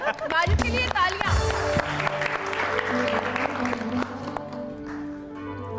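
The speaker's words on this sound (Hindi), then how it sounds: "वाजिद के लिए तालियां।" A studio audience on a TV game show claps after a winning answer, the applause rising under overlapping host chatter and background music tones, then thinning out toward the end.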